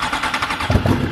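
A superbike is cranked over on its self starter with no throttle, a short, close whirring engine sound that rises toward firing.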